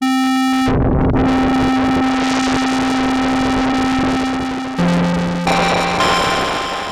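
A Korg Microkorg 2 synthesizer holds sustained tones while noise modulates the filter cutoff, a hissing texture sweeping through them, giving a gritty, almost distorted sound that shifts as notes change.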